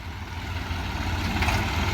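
Swaraj 735 and New Holland 3630 tractor engines idle together at steady rpm, a continuous low diesel rumble with a slight rise in level, close and unbroken, with no voices.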